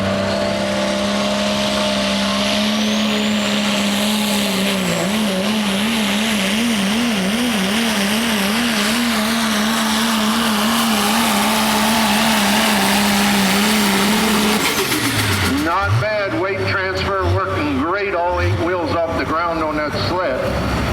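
A truck engine at a truck and tractor pull in Boonsboro revs up with a steady, loud, droning pitch that wavers, then surges into rising, harsher roars near the end, with an announcer talking over it.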